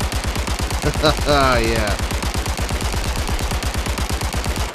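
Rapid, evenly spaced gunshots from a pistol at a virtual shooting range in Zero Caliber Reloaded, a loud continuous string of sharp cracks with a brief spoken word and a rising voice cutting in.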